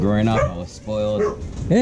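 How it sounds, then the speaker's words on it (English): Someone talks in the foreground while dogs yip and bark behind him, short harmonic barks breaking in between and over his speech, in an outdoor cooking setting. "I apologize for the dogs barking in the back."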